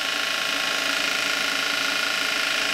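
A newly fitted type 300 motor in a Zelmer vacuum cleaner runs on a bench test through a protective transformer, giving a continuous loud, high whine with steady brush buzz and no break.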